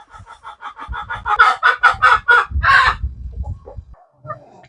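Free-range native country chickens let out of their coop in Kerala cluck in a loud, close, rhythmic run of calls, building to a strained crow-like cry before quieter clucks trail off.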